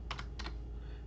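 Keys on a computer keyboard tapped in two quick pairs of clicks, close and fairly quiet over a steady room hum, with no talking.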